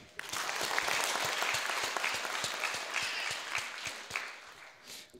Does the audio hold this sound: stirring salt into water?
no